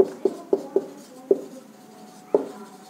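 Pen or chalk strokes writing out an equation during a Class 10 trigonometry maths lesson, a close series of short tapping scratches, six distinct marks in an uneven rhythm, with no talk over them.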